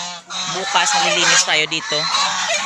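Several domestic geese honk loudly in overlapping bursts, close by in their pen on a farm, while a person speaks over the flock.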